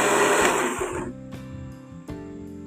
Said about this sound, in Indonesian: ini untuk bumbu dagingnya akan kita blender